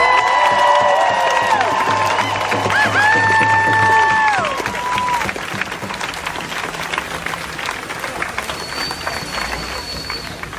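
A protest crowd at a nighttime rally in Portland, Oregon, cheers, whoops and whistles loudly over steady clapping. The noise is loudest at first, then eases into scattered applause and shouts.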